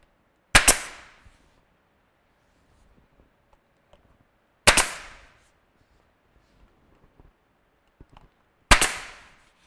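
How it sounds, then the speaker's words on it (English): Three sharp, loud pops from an 18 gauge pin nailer driving thin nails into wood trim during interior door installation, spaced roughly four seconds apart, each a crisp snap with a brief tail, with faint handling noise between. "I'm using this 18 gauge pin nailer so that it's a really thin nail."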